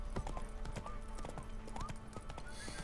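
Roach the horse galloping in The Witcher 3: Wild Hunt, rapid rhythmic hoofbeats clip-clopping steadily over ground, close and clear with a brief snort, no speech.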